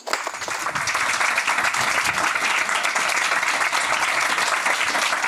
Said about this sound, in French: je leur dirai que vous les avez applaudis